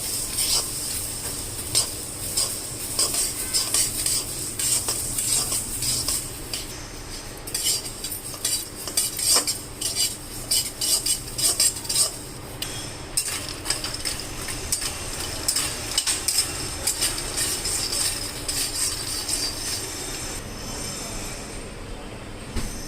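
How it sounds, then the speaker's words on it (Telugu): Chia seeds are dry-roasted in a pan over a low flame while a spoon stirs and scrapes against the metal, producing a continuous close rattle with irregular clinks and no talking. "చూడండి, ఇప్పుడు ఇవి లైట్గా వేయించుకుందాం సన్న మంట మీద."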